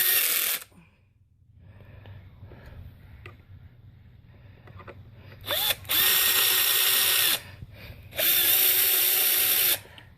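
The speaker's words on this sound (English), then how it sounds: "set your drill to 2 pounds of torque, not 3 like I had it in the past" Cordless power drill driving bolts into an HTA 90/22 airgun while fitting a BX trigger, heard as two close, loud whirring bursts of a couple of seconds each after a brief opening spin, with quiet handling clicks and a low background hum between.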